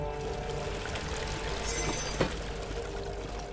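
A bucket of water is poured out in the video game Amnesia: The Dark Descent, a continuous splashing gush lasting a few seconds with a small clank near the end and no voices.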